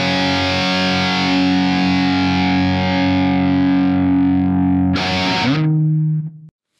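Heavily distorted electric guitar through a triple rectifier amp simulation in Bias FX, miked with an SM57, holding a thick sustained chord before a short final stab and abrupt cut to silence.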